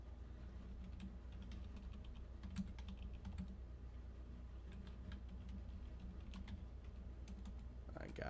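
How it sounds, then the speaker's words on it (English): Fast, irregular clicks of typing on a computer keyboard, close and fairly quiet over a low background hum, with brief pauses between bursts. "I suck at typing."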